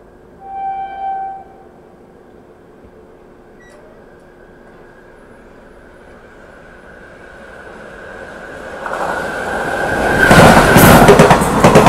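A brief horn-like tone sounds, then a quiet lull before the Secunderabad–Shirdi express train approaches on an Indian railway line and rushes past loudly, a roaring rumble building over the last seconds.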